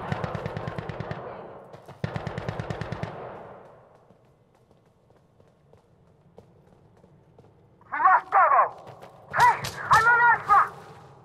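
Rapid bursts of automatic gunfire in a video game shooter, two loud rattling volleys near the start, then quieter sharper shots and effects later with no talking.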